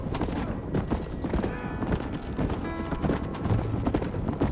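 Horse hooves gallop in a rapid, continuous clip-clop rhythm in the Red Dead Redemption video game, loud and close, with faint background game sounds and no voices.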